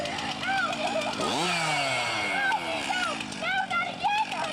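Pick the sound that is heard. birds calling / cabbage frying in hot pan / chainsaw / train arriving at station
chainsaw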